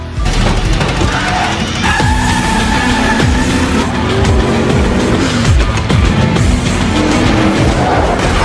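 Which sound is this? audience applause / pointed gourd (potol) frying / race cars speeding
race cars speeding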